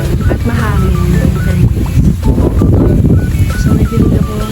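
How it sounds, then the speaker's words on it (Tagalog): Wind buffets the microphone outdoors under cloudy skies, a loud continuous rumble with a person talking over it. "At mahangin."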